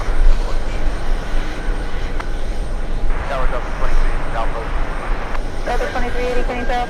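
A Turkish Airlines Boeing 777-300ER jet rumbles heavily at JFK airport, a broad, steady roar heard from a distance, with people talking over it.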